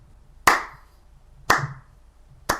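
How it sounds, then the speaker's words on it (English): Three single hand claps ring out about a second apart in a deliberate slow clap, each sharp and close with a short decay, and near silence in between. "Slow clap."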